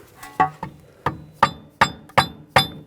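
Six or seven sharp metallic hammer taps, evenly spaced, driving a new rear upper control-arm bolt into a 2004-2009 Audi A4 Quattro suspension, close and crisp with no talking.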